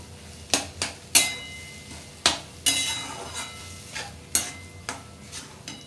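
Paneer bhurji masala being stirred and sautéed in a pan, with a spatula clanking against the pan in about eight sharp, uneven knocks over a soft background sizzle.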